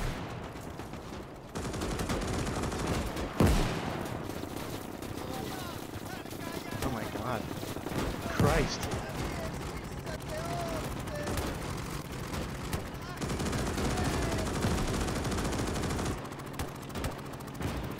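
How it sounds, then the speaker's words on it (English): Gunfire rattles through a World War II battle in the game Gates of Hell: Ostfront, with scattered sharp shots and bursts over steady battle noise, while a voice talks in places. "Covering fire here."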